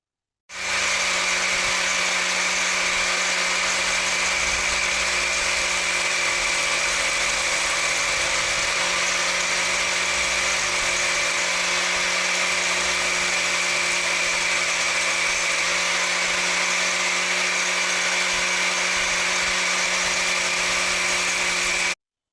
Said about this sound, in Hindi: अब ये मैं इसको जैसे घुमाऊंगा और ड्रिल मशीन चला के घुमाऊंगा तो ये बिल्कुल गोल बनेगा।